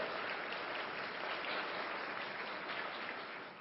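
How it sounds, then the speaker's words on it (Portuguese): An audience at a Faculty of Social Work 70th-anniversary ceremony applauds Maria Luísa, a dense, even roar of many hands clapping that stays level before easing slightly at the end. "Gente, uma salva de palmas a Maria Luísa."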